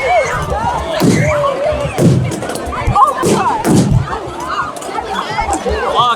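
Fireworks explode close to the ground after their firing tube tips over, in Patagonia: several sharp thudding bangs in quick succession, mixed with people talking and shouting.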